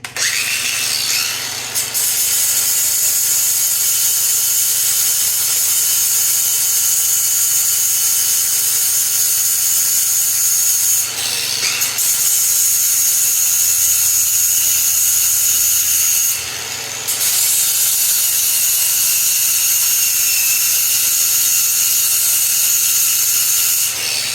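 Loud, close grinding on welded metal patch panels of an old shop truck, a harsh continuous whine that runs nearly nonstop with two short pauses, no voices.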